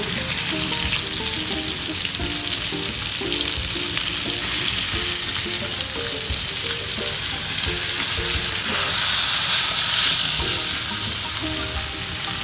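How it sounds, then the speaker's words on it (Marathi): Pomfret fish frying Konkani style in a pan with oil, giving a loud, even, continuous sizzle close by for the whole stretch, with faint clinks and no talking. "असं पाच मिनटं एका साईडने आपण छान फ्राय करून घेऊया"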